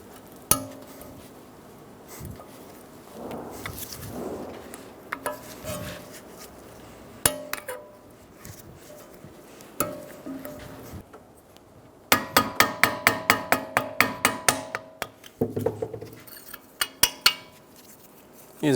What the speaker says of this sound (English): Using a small hammer, go around, continually tapping.